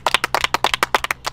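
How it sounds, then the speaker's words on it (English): A small team claps for itself after a stand-up paddleboard challenge, giving a fast, sharp burst of close, loud handclaps with no voices. "You guys can cheer for yourselves."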